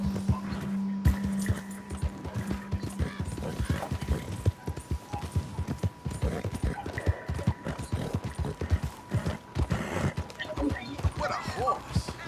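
Horse hooves clip-clop steadily in Red Dead Redemption 2, a close, even rhythm of hoofbeats with mechanical clinks and brief talk over them.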